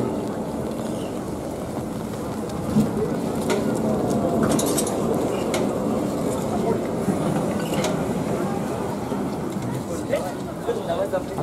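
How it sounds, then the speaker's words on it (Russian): Moscow maintenance tram rolling past at a tram festival, a steady loud rumble and rattle of wheels on rails with outdoor wind noise, constant throughout with faint voices underneath. "А этот трамвай, наверное, ремонтирует другие трамваи."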